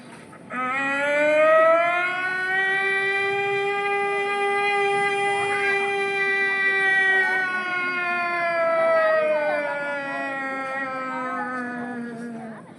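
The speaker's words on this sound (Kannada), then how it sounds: "ಅಲ್ಲಿ 12 ಗಂಟೆ ಆಗುವ ಅದೇ ಸಮಯಕ್ಕೆ KVG ಸೈರನ್ ಈ ರೀತಿಯಾಗಿ ಕೊಟ್ಟಿತು" The KVG noon siren wails from across Sullia town, a loud steady rising-and-falling tone rich in harmonics that holds for over ten seconds before slowly winding down.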